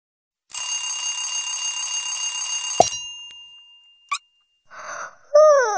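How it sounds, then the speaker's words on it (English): An alarm clock ringing in the Pocoyo children's video game, a loud continuous electronic bell lasting about two seconds and stopping abruptly, followed by a short chime and bright rising cartoon tones. "Alarm clock."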